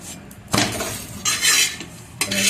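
Appe being turned in an appe pan with a metal utensil, giving several sharp clinks and scrapes of metal on the pan, close and distinct with gentle background sizzle.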